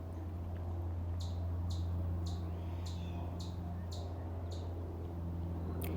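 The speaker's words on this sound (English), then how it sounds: "That bird's really excited to be on my tutorial today, I guess. He's just chirping nonstop." A small bird chirps nonstop in a room during a tumbler painting session, giving a regular series of short, sharp high calls about every half second over a steady low electrical hum.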